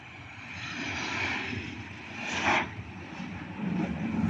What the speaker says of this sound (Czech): Takže máme tady Norwegian, Boeing 737-800 z Osla. Tam přilítává sem do Prahy na letiště. Vidíme přistání.